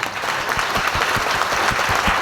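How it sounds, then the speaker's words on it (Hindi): An audience claps hands at a talk, a steady dense burst of applause with a few stronger rhythmic claps standing out, fairly loud throughout with no speech on top. "इसी दोस्ती के नाम पे हाथ उठा के एक बार ताली बजानी तो पड़ेगी"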